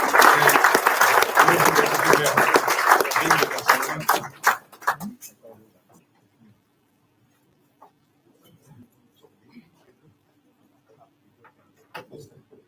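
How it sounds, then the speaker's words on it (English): An audience at the grand launch of India Business House in Amsterdam claps warmly for about five seconds. The applause then thins into a few scattered claps and fades to near silence, with only small faint noises after. "So friends, a very warm round of applause for both Hilde."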